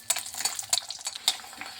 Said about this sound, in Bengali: প্রথম বড়িটা ভেজে নিচ্ছি